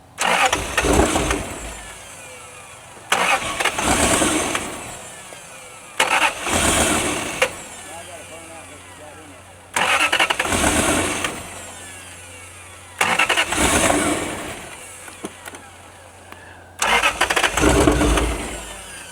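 A Lexus LS400 left sitting for 10 years cranks and catches in six separate bursts, each loud start running briefly before it cuts out again, with quiet gaps between attempts.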